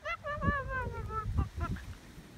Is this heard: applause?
no